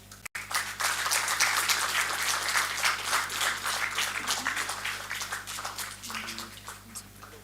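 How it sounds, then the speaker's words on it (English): Audience at a business conclave applauds warmly as Mr. Mantri is welcomed to the dais, a dense, steady round of clapping that holds for several seconds before thinning slightly, with a low hum underneath. "With a huge round of applause, let's welcome Mr. Mantri to the dais."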